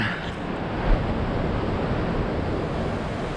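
Ocean waves and surf roll in as a continuous broadband wash, steady and fairly loud, with wind buffeting the microphone and no voices.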